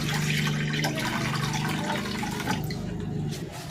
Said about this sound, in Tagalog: Maglalagay na ako ng tubig dito sa kawali.